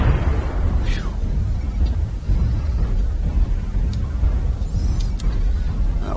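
An incoming missile explodes in MechWarrior Online, a deep rumbling blast that rolls on as a loud, dense roar throughout, with faint sharper pops scattered over the top.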